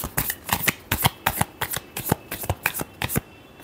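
Tarot cards being shuffled by hand in a run of crisp, rapid riffling bursts, a dozen or so close slaps and rustles in quick uneven rhythm, with no talking.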